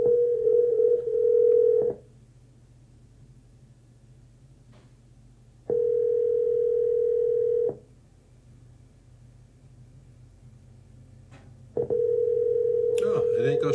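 An outgoing phone call rings unanswered, the ringback tone repeating three times in steady two-second bursts separated by about four seconds of quiet line hiss, clear and close.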